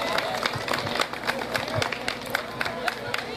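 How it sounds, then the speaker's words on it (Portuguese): An audience claps at an evening community gathering, irregular separate claps and crowd murmur at moderate level, with some chatter underneath. "Vamos aplaudir o professor Domingos do Carmo Ferreira Ribeiro."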